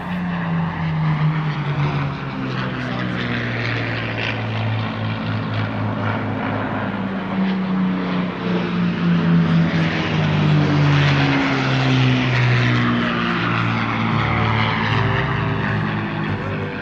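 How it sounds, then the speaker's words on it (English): Spitfire and P-51 Mustang warbirds fly a formation display at an air festival, with loud, continuous piston-engine drone and propeller roar that rises and falls in pitch as the pair pass overhead. "the Spitfire joins up with the old Flying Machine Company's other great warbird, P-51 Ferocious Frankie, for this formation display"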